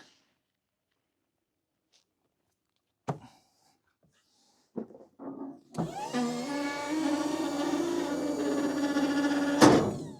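A motorcycle lift is lowered with a bike on it: a few clunks and mechanical clicks, then a steady electric motor whine that runs for several seconds and ends with a sharp clank, close by.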